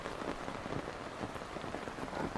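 Steady rain falls on surfaces in a continuous, even patter, close and moderately loud with dense scattered drops and no voices.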